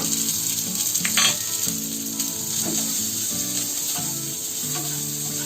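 Sliced onion frying in hot oil with whole spices, garlic and ginger, giving a loud, steady close sizzle with a brief stir partway through, over a background tonal hum, and no one talking.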